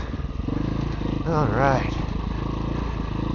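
A motorcycle descends a slippery dirt hill-climb course in second gear under engine braking, its engine a steady, close, rough drone throughout, with a voice talking briefly over it.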